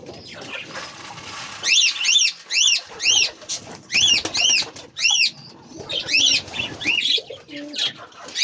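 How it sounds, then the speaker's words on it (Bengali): Pigeons in a new coop coo repeatedly in rhythmic, rising-falling calls, close and clear, with occasional rustles and wing shuffles between them. "এই যে দেখো আমাদের কবুতরগুলি আরো আছে আছে এখনো আসেনি"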